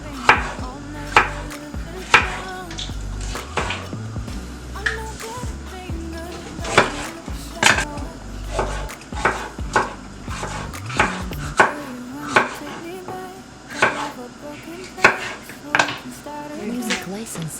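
A knife chops fish into pieces on a board, giving a steady run of crisp, close thuds and knocks repeated many times, some in quick pairs, with faint talk now and then.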